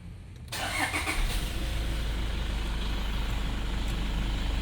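A car engine starts and settles into a steady idle, run in place for an engine flush during an oil change; a low, even rumble continues alone.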